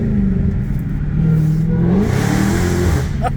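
A Dodge Charger Hellcat's engine revs up from inside the car, a deep loud rising roar with mechanical whir, heard alone without talk.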